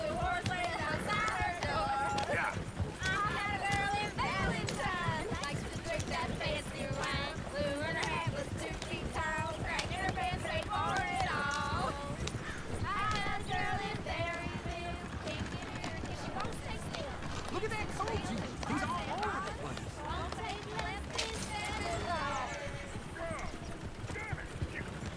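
Horses gallop in Red Dead Redemption 2, a rapid rhythmic clatter of hooves that runs continuously beneath frequent talking and game sounds.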